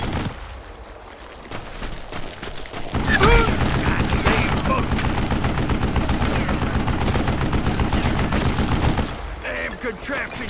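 Gatling gun firing in the western shooter Call of Juarez Gunslinger, a long continuous rattling barrage with mechanical clatter, loud and close, with a voice speaking over part of it.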